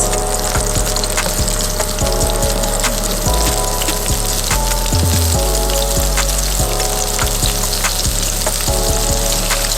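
Onions stir-frying in a hot pan for japchae, Korean glass noodles with vegetables, giving a loud steady sizzle with intermittent scraping stir strokes throughout, close and without talk.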